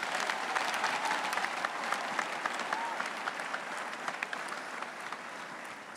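An audience at a Christian testimony gathering breaks into applause, a dense continuous wash of many hands clapping that holds steady and slowly eases over several seconds, heard alone without talk.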